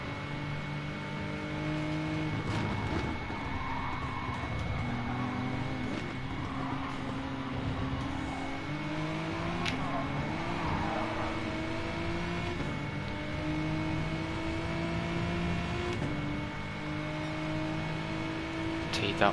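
Race cars in GT Sport run continuously through an endurance GT series race, steady engine drone with shifting revs and gear changes throughout, a voice commentating over the top.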